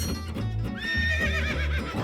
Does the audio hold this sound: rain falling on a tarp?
no